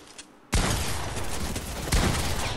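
After a quiet start, a sudden loud burst of video game gunfire erupts, including shotgun fire, followed by sustained rattling shots and a second heavy blast near the end.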